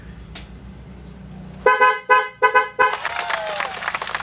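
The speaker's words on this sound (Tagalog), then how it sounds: "Ngayon, i-testing natin ulit yung busina." A dual horn newly fitted to a Yamaha NMAX scooter is tested with a burst of loud, close honks in a rapid uneven sequence, the last blast held longer, after a brief quiet stretch.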